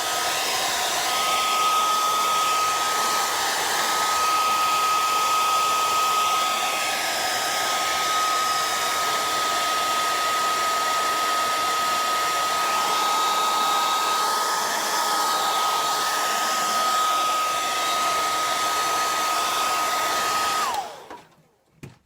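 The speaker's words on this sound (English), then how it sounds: "I just use a basic hair dryer" A basic hair dryer blows hot air over wet paint on a palette-knife gnome painting, giving a loud, steady whooshing roar with a thin whine on top for about twenty seconds before it cuts off abruptly.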